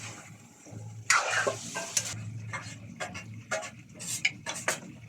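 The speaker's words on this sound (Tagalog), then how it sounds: "Haluin lang." A spoon stirs chicken curry with potatoes and carrots in a pot, giving a soft scraping swirl followed by a series of quick, close metallic clinks and taps at an irregular pace.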